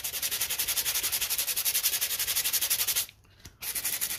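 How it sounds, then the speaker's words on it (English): Buffing a small dent on an aluminium phonograph horn, a fast rhythmic rubbing with even strokes, briefly pausing near the end before resuming, close and alone. "some buffing."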